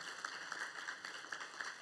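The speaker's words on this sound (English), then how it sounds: "Please give a big round of applause to all the gurus who are here" Audience applause for the teachers at the SSE and DVP graduation ceremony, a steady wash of many hands clapping at moderate distance, fairly faint and even, with scattered louder claps.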